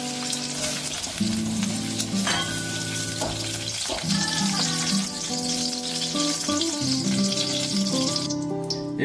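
Cauliflower florets fry until golden brown in hot mustard oil, giving a steady close sizzle with occasional rattles and scrapes of stirring.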